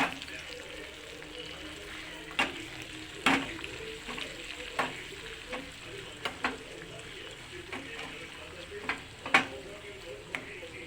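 Spices with a pinch of fenugreek powder and turmeric being stirred into lemon rice in a pan, soft sizzle under repeated sharp spoon scrapes and taps against the pan, close and fairly quiet.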